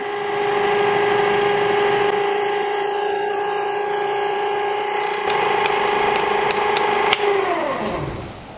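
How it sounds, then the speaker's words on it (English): A 1/8 inch drill bit bores about 8 millimetres deep into metal for a steampunk Stirling engine. A steady, loud motor whine holds throughout, then spins down at the end. "I'm going to start with an 1/8 inch drill bit though, and go 8 millimeters deep."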